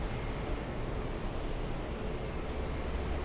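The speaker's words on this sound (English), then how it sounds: "Have a safe flight to Naples, Delta 232, leaving in a spectacular fashion." Delta 232 airliner departing for Naples, a steady broadband jet roar holding at a constant level throughout with no voices.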